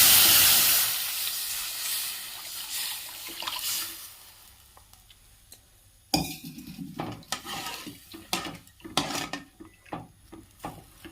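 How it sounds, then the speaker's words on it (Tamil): Onion rasam poured into a hot pan: a brief bright hiss and splash, then a simmering bubbling bed with scattered clinks and scrapes of a spoon stirring, close by and without talk. "ரசத்தை எடுத்து ஊற்றிடலாங்க."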